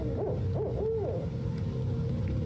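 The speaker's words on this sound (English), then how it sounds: "What animal is this? It's an owl." Several soft, wavering owl hoots in a quick cluster near the start, then a low steady background hum with no further calls.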